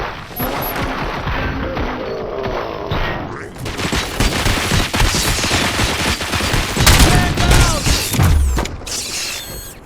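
Sustained gunfire from officers in the RoboCop: Rogue City video game, a loud dense fusillade with mechanical clatter that runs throughout, mixed with other game effects and no speech.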